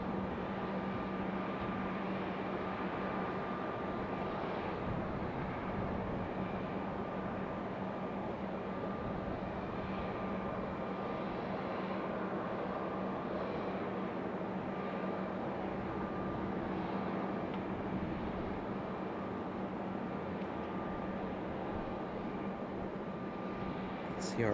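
A JetBlue Airbus A320 bound for San Juan at Raleigh-Durham airport, a faint, steady jet engine rumble with a constant tonal hum, continuous and unchanging across the whole stretch.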